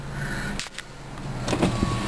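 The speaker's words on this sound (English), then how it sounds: "Full power driver's side window." An electric driver's side window motor whirs briefly inside a 2004 Honda Accord LX, with a short pause and a couple of soft clicks and thumps, no voices.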